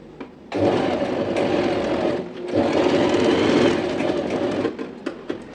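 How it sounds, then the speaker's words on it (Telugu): A sewing machine stitches fabric for a tassel and flower design, running in a close, steady whirring drone with a brief pause midway, then slowing with a few ticking stops near the end. "ఇప్పుడు మనం స్టిచ్ అనేది వేసుకుందాం ఇక్కడ నుంచి స్టార్ట్ చేయండి"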